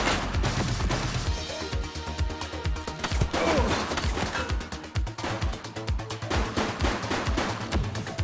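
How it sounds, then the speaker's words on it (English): Sustained gunfire in a police video game shootout, with many sharp shots in fast, uneven bursts and occasional crashing impacts, loud and close throughout. "He's shooting!"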